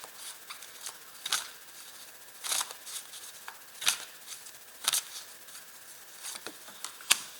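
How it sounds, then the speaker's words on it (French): A tarot card being laid onto a spread during a French-language reading, heard as several soft, brief papery slaps and slides spaced a second or so apart, close and quiet, with no talk over them. "Alors je rajoute une carte dessous."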